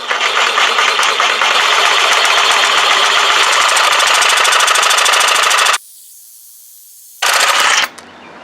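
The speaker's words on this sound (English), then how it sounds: "The nice thing about these DeWalt Sawzalls, they have 4 different positions you can put the blade in." A DeWalt Sawzall reciprocating saw cuts during installation of a barn door track. It gives a loud, steady, rapid buzzing for almost six seconds, stops abruptly, then makes one short final burst.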